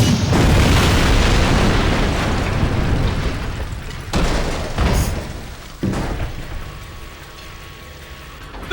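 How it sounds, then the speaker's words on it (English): A tank blows up in the video game Jak II with a loud, roaring blast that rumbles on for seconds, followed by two more sharp bursts of explosive noise. "Get behind me while I toast that tank."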